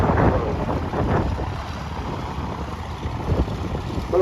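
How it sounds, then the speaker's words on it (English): Chinook tandem-rotor helicopter flying at an air display, heard as a broad, steady rumbling roar with wind buffeting the microphone, fairly loud and continuous, with no voices. "The raw power and versatility of the Chinook is all down to the iconic tandem rotor design."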